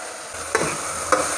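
Pumpkin and onions sautéing in a pan give a steady soft sizzle, broken by two brief scraping stirs of a spoon a little over half a second apart.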